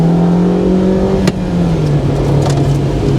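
Honda EK9 pulling hard in second gear on a winding mountain road, a steady loud engine note holding strong with a brief shift-like dip midway, alone without talk.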